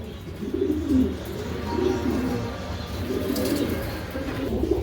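White Bokhara pigeons kept for sale coo nearby in soft, repeated rolling phrases, with a few brief chirps and light rustling around them.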